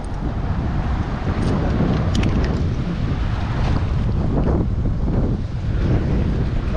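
Steady, strong wind buffeting the microphone with a constant low roar, alongside a faint wash of water, throughout and with no voices.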